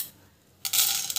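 Mustard seeds drop into hot ghee in a pan and burst into a sudden, loud, bright sputtering crackle after a moment of quiet, continuing close-up to the end.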